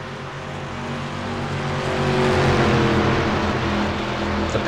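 In a racing video game, a pack of race cars runs a 20-lap race on the 1.017-mile Rockingham Speedway oval, and their engines build into a loud, layered roar as they accelerate together.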